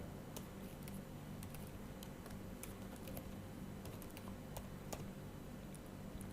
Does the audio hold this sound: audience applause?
no